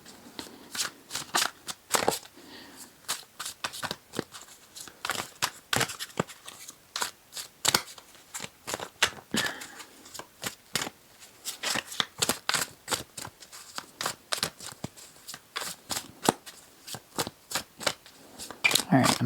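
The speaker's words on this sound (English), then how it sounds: "I'm going to shuffle it one more time and cut it" Rapid riffles and flicks of playing cards being shuffled, crisp snapping bursts repeating in quick succession, close up and fairly loud throughout.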